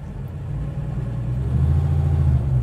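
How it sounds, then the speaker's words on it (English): Porsche 964 Carrera RS Clubsport tribute with a lightweight flywheel idling, a steady low rumbling engine note that swells slightly louder toward the end, heard close from inside the car with no talking. "We can hear that lightweight flywheel in the back making a little bit of noise there"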